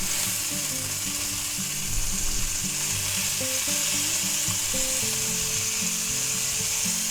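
A sirloin steak fries in butter in a pan, giving a loud, steady sizzle that carries on without a break, close by and with no talking.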